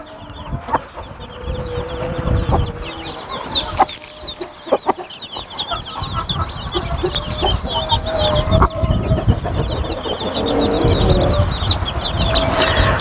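Broody hens, experienced sitting birds in a farm coop, cluck repeatedly up close alongside other fowl calls, a busy, continuous stream of clucks and squawks that grows denser toward the end.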